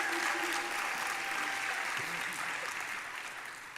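Applause from a University of Trinidad and Tobago graduation ceremony crowd in 2022 fills the hall steadily, a dense wash of clapping that gradually tapers off toward the end.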